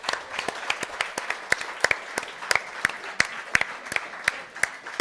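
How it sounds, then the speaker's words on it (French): An audience claps and applauds steadily throughout, with sharp individual claps standing out in a continuous run of about five seconds and no speech over it. "On peut les applaudir, bravo."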